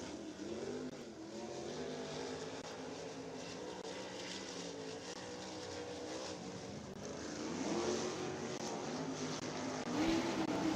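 Midget race cars lapping Eldora Speedway, a continuous engine drone heard from a distance that swells louder toward the end.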